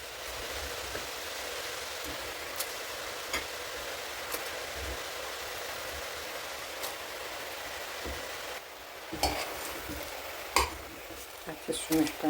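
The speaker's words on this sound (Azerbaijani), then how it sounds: "Artıq kələm qovrulur burada." Cabbage for borscht fries in a pan with a steady soft sizzle, interrupted by scraping and stirring clatter that grows busier and louder toward the end.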